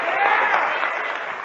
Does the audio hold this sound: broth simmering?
no